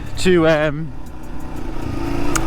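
A 1995 Yamaha SR125 motorcycle's single-cylinder engine hums steadily while being ridden, a moderate mid-pitched drone that sits under a brief spoken phrase near the start.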